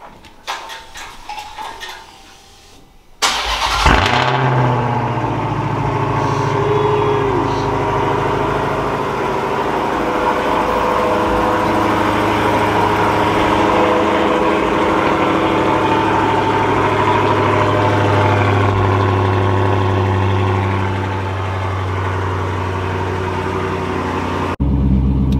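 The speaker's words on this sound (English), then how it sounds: "That car crazy loud, man." Dodge Challenger Hellcat cold start: a few seconds of quiet, then the engine fires with a sudden loud roar and settles into a deep, steady rumbling idle that eases slightly near the end.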